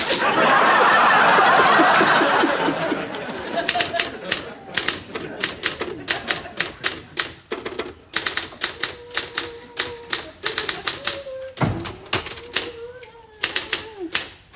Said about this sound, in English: Now, I'm typing your CV.